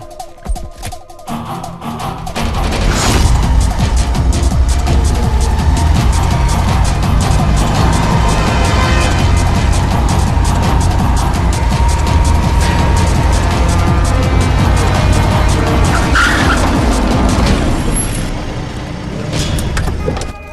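A car engine runs loud and steady in a Tamil comedy film scene, rising as the vehicle pulls away, with a brief scraping whine near the end and no talk.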